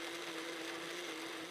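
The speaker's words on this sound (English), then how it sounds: "we fill our blender about 3/4 of the way full and give it a whirl until the tomatoes are" Blender pureeing ripe tomatoes: a steady, high whirring motor drone runs continuously, close and fairly loud, with no voices.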